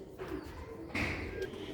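Sialkoti black-faced pigeons, one and a half to two years old, give soft low coos close by, along with a sudden rustling thump partway through.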